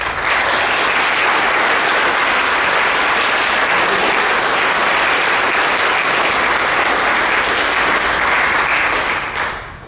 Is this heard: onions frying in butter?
no